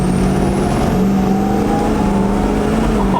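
Hummer H1 swapped with an LBZ Duramax diesel and a 72mm turbo, pulling hard under acceleration: a loud, constant close diesel drone with rising turbo whine, no talk.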